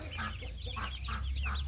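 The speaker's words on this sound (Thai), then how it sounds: "สวัสดีครับเป็ดน้อยนี่ไง" Young ducklings of the Yi Liang breed peep and chirp in quick, close calls that repeat over a steady low hum.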